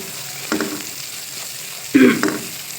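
Garlic and ginger fry in a pot for chicken masala, a steady sizzle under two louder stirring scrapes, with no talking.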